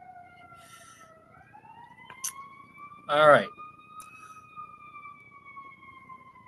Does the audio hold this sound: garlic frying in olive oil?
no